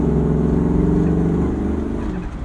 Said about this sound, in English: wonderful V8 exhaust music.